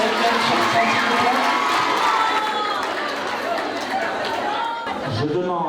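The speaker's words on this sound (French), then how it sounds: "On peut les applaudir" A prize-giving audience makes a dense, steady wash of cheering, shouting and excited chatter that fills the whole stretch at a fairly loud, even level, with children's voices rising through the crowd noise.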